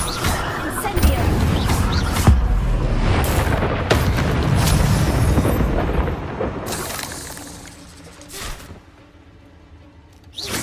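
Confringo and Incendio fire spells in the Hogwarts Legacy video game erupt in heavy booms and shattering crashes, densely layered and loud before fading, with a character's voice calling out during the blasts.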